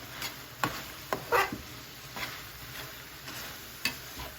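Ground beef browns in a pan for Italian stuffed peppers, a low steady sizzle broken by several sharp clicks and scrapes of a spoon stirring the meat, with no one talking.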